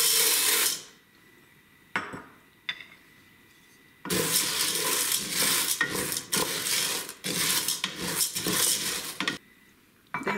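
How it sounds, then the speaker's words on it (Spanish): Pasta frying in hot oil in a pot, heard as bursts of crackling sizzle broken by metal spoon scrapes and clanks against the pot, with short quiet gaps between the louder stretches. "Vamos a calentar aquí en esta olla un poco de aceite donde vamos a freír la pasta."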